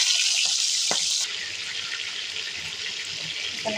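Prawns sizzle and hiss in hot oil for a Bengali prawn curry (chingri macher jhol), a steady bright frying crackle that eases slightly partway through, with no voices.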